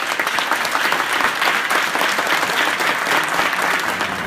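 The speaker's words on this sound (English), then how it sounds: "Please join me in a round of applause." Steady, dense applause from an audience at an Unsung Heroes award press conference, a sustained wash of clapping with no talking over it.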